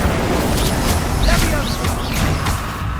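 Fire spells from the video game Hogwarts Legacy burst repeatedly as booming blasts and crackling pops over a dense, continuous wash of in-game combat noise.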